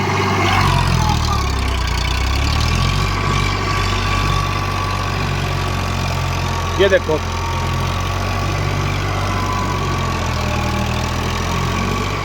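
An Eicher 551 tractor with a rotavator chugs steadily in a field of wet soil, its loud, low engine drone running unbroken throughout while someone speaks briefly over it.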